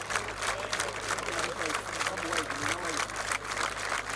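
Steady, dense clapping from a large crowd at a rugby match continues without pause as a one-minute tribute, heard at a distance with a voice speaking over it.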